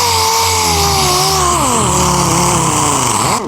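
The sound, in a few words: Chinese air sander sanding with disc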